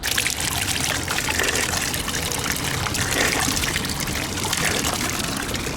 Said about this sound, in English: I don't think they have many public water fountains in the UK anymore.